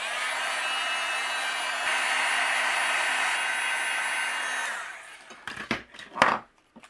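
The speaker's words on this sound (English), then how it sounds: "I'm going to use my heat gun to speed this up" Heat gun blowing steadily for about five seconds while drying a card panel for a frosty-themed handmade card, a loud, even whoosh that cuts off, followed by a few soft handling bumps.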